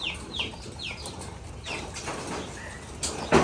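American giant runt pigeons kept in a large cage give off brief wing flaps and short chirping calls, with scattered rustling and a sharper flutter close by at the end.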